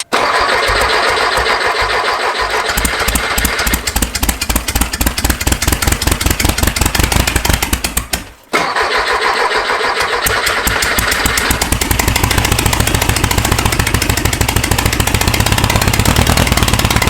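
An air-cooled engine with its timing off cranks with rapid chugging pulses, catches briefly, cuts out for a moment, then fires up again and runs loud and rough with a steady rumble.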